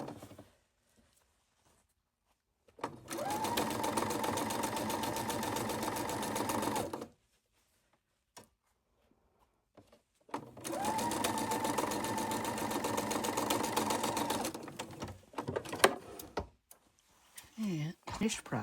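A sewing machine stitches a quilt block in two sustained close bursts of rapid mechanical whirring, separated by quiet pauses, with brief handling noises between.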